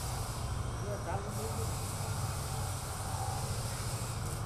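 Steam hisses steadily at the inlet valve of a 10 hp steam engine in a small steam power plant, a constant close rushing sound with low machinery rumble beneath.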